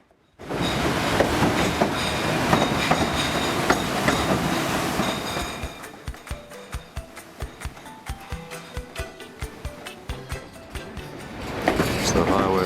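The White Pass train rolls along its rails in Alaska, a steady loud rumble giving way to a rhythmic clickety-clack of wheels over rail joints, with the roar swelling again at the end and voices faintly present.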